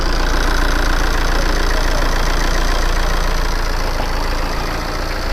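A serviced Tata Safari Dicor diesel engine, past 100,300 km, idles in a steady, continuous broadband rumble with a slight knocking texture, close and fairly loud, with no talk over it.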